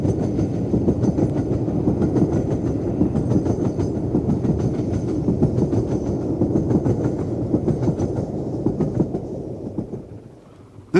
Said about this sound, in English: we next see the second of the pair, Bahamas, again at work on a train heading to Settle and Carlisle